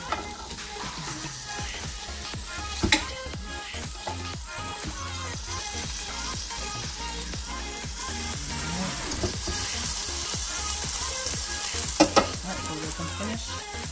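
Beef short ribs sizzle steadily on a Ninja Foodi grill, a continuous close crackle with occasional louder pops and scrapes as the meat is turned, no talking.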